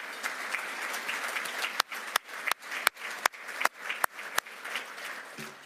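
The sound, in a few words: audience applause for Rob and Sue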